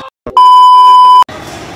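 A loud steady censor beep, one continuous tone under a second long, cuts over speech in a casual vlog, with brief talking just before and after it.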